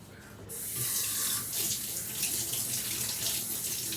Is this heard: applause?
no